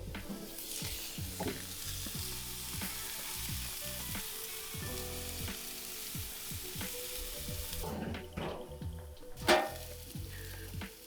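Burgers frying on a red Monument 4-burner griddle, a steady close sizzle with crackling pops and occasional scraping of a spatula against the hot flat top.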